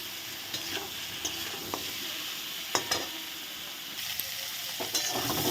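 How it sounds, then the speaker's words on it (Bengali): Cauliflower and potato pieces fry with salt and turmeric in a pan, a soft continuous sizzle broken by several scraping stirs of a spatula, close and fairly quiet with no voices. "এখন ফুলকপিগুলো একদম লাল লাল করে আমি ভেজে নেব"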